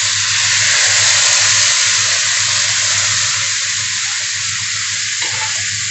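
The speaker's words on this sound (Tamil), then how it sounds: "கொஞ்சமாக அந்த மசாலா தண்ணியை கொஞ்சமாக தெளித்து விட்டுருங்க" Loud, continuous hissing sizzle of masala water sprinkled into a hot pan of cooking brinjal, steady throughout with faint stirring scrapes underneath.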